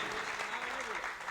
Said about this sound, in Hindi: ताली बजाइएगा।